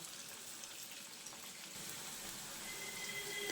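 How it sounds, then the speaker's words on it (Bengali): Cauliflower pakoras fry gently in oil over low heat, giving a faint, even hiss and fine crackle that runs steadily throughout with no voices. "পকোড়াগুলো আমি লো হিটে ভাজতে থাকবো"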